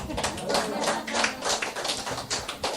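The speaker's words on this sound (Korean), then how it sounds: "그 옥수수 농장 주인에게 박수 한번 보냅시다." A crowd claps together in a steady burst of applause, loud and sustained throughout.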